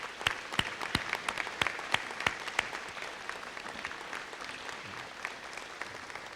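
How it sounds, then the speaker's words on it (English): Scattered applause at a college hall of fame ceremony, with sharp individual claps standing out at first before thinning into quieter, sparser clapping that fades away. "So I think if we all just give a hand of applause to Sarah and Ellen, that would be great."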